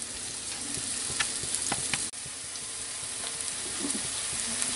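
Chopped onion sweating gently in a pan for mushroom risotto gives off a soft, steady sizzle with faint crackles, and one brief stir clatters near the middle.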